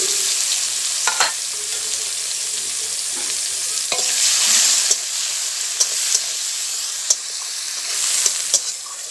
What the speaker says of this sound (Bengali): পেঁয়াজটাকে নেড়ে চেড়ে হালকা লাল লাল করে ভেজে নিয়েছি।